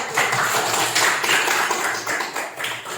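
A classroom of students claps hands together for about three seconds, a steady, dense patter of many hands close by, with no talking over it.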